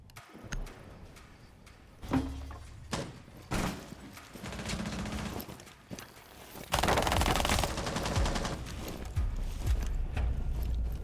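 Rapid automatic gunfire in Rainbow Six Siege, scattered bursts and single shots early on, building to a long sustained spray of fire near the end, fairly close and loud.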